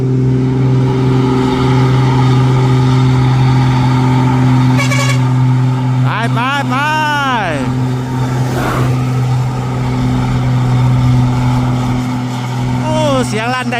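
A six-wheel truck climbs a steep mountain road at full throttle, its engine a loud, steady, humming drone throughout, with voices rising over it at times.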